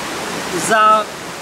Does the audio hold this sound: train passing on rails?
no